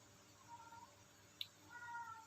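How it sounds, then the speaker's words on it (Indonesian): A kitten meows outside during an indoor tarot reading, faint and distant, with a couple of thin drawn-out cries and a brief sharp click between them over a quiet room hiss. "Mohon abaikan suara kitten di luar ya, dia lagi cari soulmate-nya itu."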